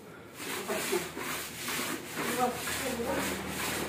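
Rhythmic rubbing and scrubbing strokes of a floor being mopped during a Holy Thursday morning house cleaning, steady back-and-forth swishes repeating about every half second, close and moderately loud with faint voices in the background.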